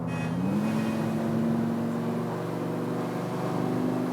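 Steady engine drone of a Mercedes car driven in Grand Theft Auto IV, a constant loud hum with a slight rise in pitch, heard alone without speech.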